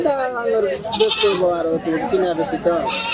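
A native goat bleats repeatedly at a busy village goat market in Muktagacha, wavering cries close by mixed with steady crowd chatter and people talking.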